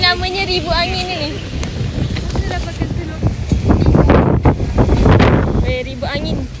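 Strong wind roars and buffets the microphone in heavy gusts while people talk and shout over it.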